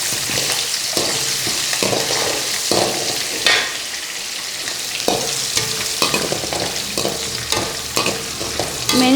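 Green chillies frying in hot oil in a pan for chitranna, a loud continuous sizzle with repeated scraping stirs of a spatula throughout.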